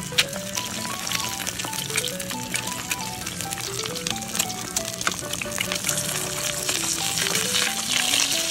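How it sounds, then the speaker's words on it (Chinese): Eggs sizzle and crackle steadily in a hot pan, with continuous loud frying over a faint melodic background tune. "我们下来煎蛋"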